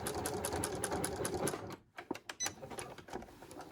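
A sewing machine backstitches a jeans pocket, running steadily for about two seconds, then pausing before a few short bursts of stitching close by.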